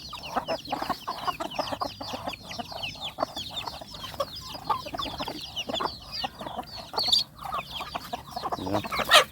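A flock of chickens eating feed clucks constantly in dense, overlapping chatter, close and busy. Sharper squawks rise near the end.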